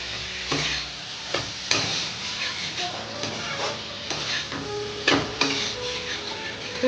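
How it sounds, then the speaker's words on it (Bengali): Ground mustard and ginger paste fries in a pan for a tangy tangra fish curry, a soft sizzle under frequent spoon scrapes and sharp knocks against the pan, close by and without talk. "সরষে আর আদা একসঙ্গে বেটে রাখছিলাম, এটা আমি দিয়ে দিলাম। দিয়ে আবার আমি 2-3 মিনিটের মতো মশলাটা দিয়ে আমি কষে নেব।"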